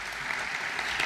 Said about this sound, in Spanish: Patricia en esto se merece un merecido aplauso